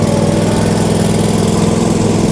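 A Kioti stand-on mower's engine runs close by, a loud, steady throbbing drone with an even rhythmic pulse and no pauses.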